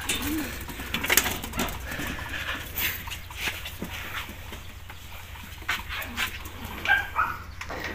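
Racing pigeons at a loft in Cainta, Rizal, cooing and fluttering softly under steady background noise, with a dog whimpering and barking at times and no talk.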